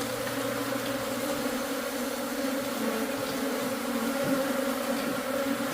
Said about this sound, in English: these are killer bees